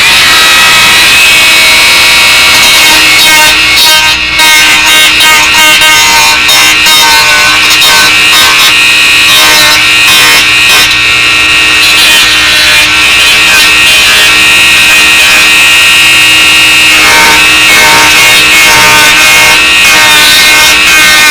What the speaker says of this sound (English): I'm going to grind this down, obviously, the next step